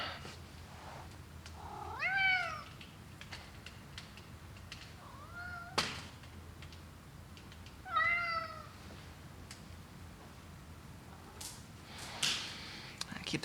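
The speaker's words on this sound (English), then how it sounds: "Oh, cat." A cat meows twice in a quiet indoor workshop, two rising, wavering calls a few seconds apart, fairly close but soft, with small knocks and breathy sounds around them.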